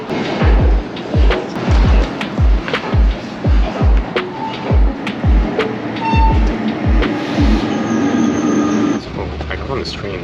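Riding a train bound for New York Penn Station: regular low thumps of wheels over rail joints beat steadily through a rumbling car, with a brief high electronic tone and a chime-like tone, then the rhythm stops near the end.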